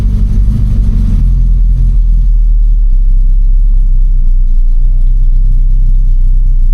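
Mini Clubman GT engine running on choke during warm-up, holding a fast idle around 2000 RPM; a steady, loud, close low rumble with no talk over it.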